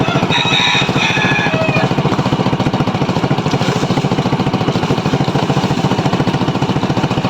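A small motorcycle engine, back in running order after lying discarded for two years, chugs loudly and close in a fast, steady rapid-fire pulse, with a faint bird call early on.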